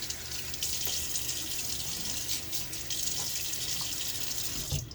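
Water runs steadily from a bathroom tap while a face is wetted before a shave, giving a continuous close rush with light splashes and a brief knock near the end.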